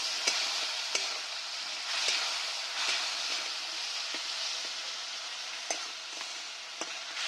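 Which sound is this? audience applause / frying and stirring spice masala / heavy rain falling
frying and stirring spice masala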